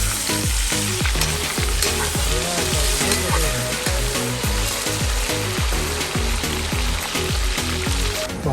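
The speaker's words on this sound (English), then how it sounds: "Our oil is hot. Let's put all the French fries slowly." French fries frying in hot oil after being seasoned with paprika and garlic powder, a loud continuous sizzle and bubbling crackle throughout, close and steady with no talking.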